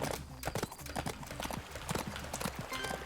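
Horse hooves clip-clop in quick, steady strides in the Adventures with Horses video game, a close, bright run of hoofbeats with faint background sound and no talking.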